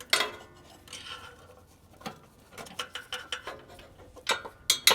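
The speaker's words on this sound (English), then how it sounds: "I'm just going to take the pliers here and try to help move our socket back out of the way." Metal socket and pliers clinking and ratcheting while a socket is worked off a glow plug on a GM 6.5L diesel V8 truck engine, a series of sharp close clicks and taps spread irregularly across the moments, with no talking.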